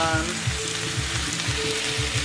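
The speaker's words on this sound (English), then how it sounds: "stir them in with this onion and garlic" Soaked rice noodles for shrimp pad thai being stirred in a pan with onion and garlic, a steady close sizzle with rhythmic low scraping pulses about every half second, no talking.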